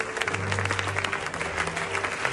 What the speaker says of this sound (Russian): Финальные аплодисменты переросли в продолжительную овацию